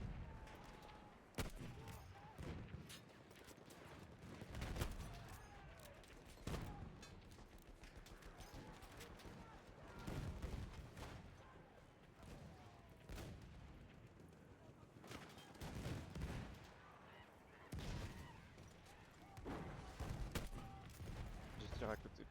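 Gunfire from the Battlefield 1 video game, a busy barrage of shots and heavier explosive blasts with repeated sharp bursts throughout, heard under a player talking.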